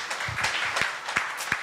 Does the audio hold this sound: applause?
yes